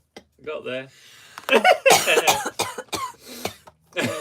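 A person coughs a few times in a rough, breathy way, mixed with chuckling, while people talk nearby.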